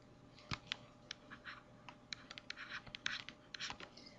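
Pen or pencil writing on paper, close and quiet, with short scratchy strokes and small taps in an irregular rhythm, alone without talk.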